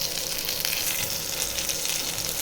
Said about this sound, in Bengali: এর মধ্যে আমি এবারে কারি পাতা দেবো ফোড়ন, আর একটু জিরে ফোড়ন দেবো,